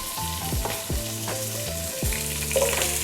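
Fennel seeds, onion and carrot frying in a pot over fairly high heat, a steady close sizzle broken by several scraping stirs of a spoon against the pan, no voices.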